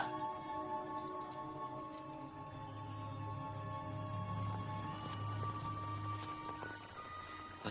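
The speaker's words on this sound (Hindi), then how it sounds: "ये बारिश भी नहीं रुकती" Rain falls faintly and steadily in a scene from a dubbed kung fu action film, a soft patter under low sustained musical tones and a humming drone.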